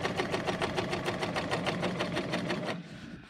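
A Bernina L890 sewing machine running a chainstitch at full speed, a close, rapid, even mechanical whirr with regular needle beats, fairly quiet, stopping near the end, no voices.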